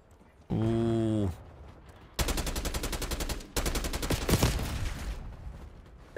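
Gunfire in Black Ops 6: a sustained tonal burst, then two long rapid automatic volleys of sharp shots, loud and close, with faint game noise between.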